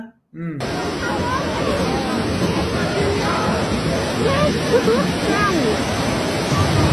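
Typhoon floodwater surges through the inside of a shopping mall with a loud, constant, roaring rush, like a stream in spate. Voices babble underneath.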